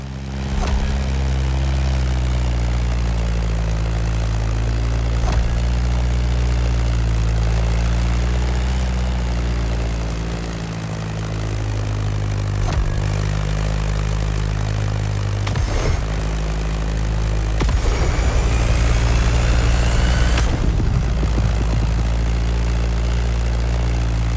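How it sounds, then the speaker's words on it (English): Beechcraft Staggerwing biplane in flight, its radial engine and propeller giving a steady, loud droning hum with strong low harmonics that swells slightly over time, alone, with no voices. "That Beechcraft Stagger Wing is truly a beautiful piece, isn't it?"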